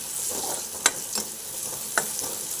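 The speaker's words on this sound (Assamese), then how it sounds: "এইখিনি মই পিঁয়াজখিনি ভাজি লওঁ" Onions sizzle in hot oil, a steady close frying hiss with a few sharp scrapes of stirring.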